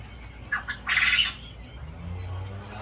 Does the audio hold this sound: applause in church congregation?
no